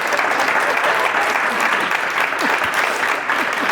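Audience applause: loud, dense, continuous clapping from many people, steady from start to finish.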